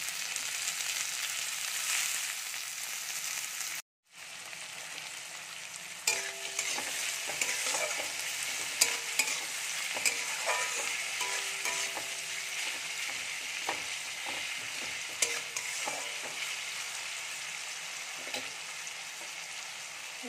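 Chopped tomato fries and is stirred in a pan for a fish curry. A loud, continuous sizzle carries scattered scraping and tapping from the utensil, with a brief drop in the middle.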